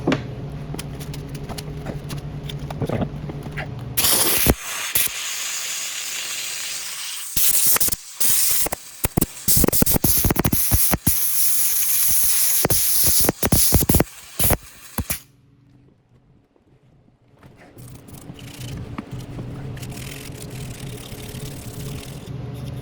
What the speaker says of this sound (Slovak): Už keď sa s tou parou troška prehreje, tak už aj tá špina odtiaľ je dosť dobre dole.